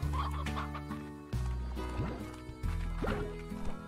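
Chickens in Slime Rancher cluck close up in short, choppy bursts, several overlapping calls in quick succession against a quiet background.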